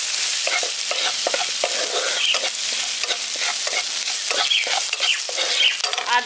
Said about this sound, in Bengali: আদা রসুন আর লঙ্কাটাকে হালকা করে ভেজে নিয়েছি